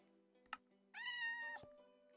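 A cat in the Minecraft video game gives one clear, bright, drawn-out meow, preceded by a short sharp click, over a quiet steady game-music background.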